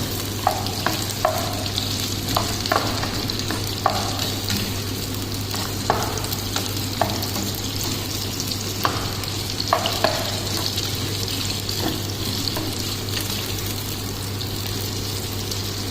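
Chicken sausage sautéing in a pan for a curry: a steady broadband sizzle with repeated soft stirring scrapes and clicks, plus a constant low hum in the background, no talking.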